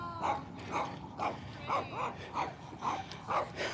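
A dog out on a neighbourhood walk gives a quick series of about eight sharp, yappy barks at a steady rhythm, moderately close and without talk.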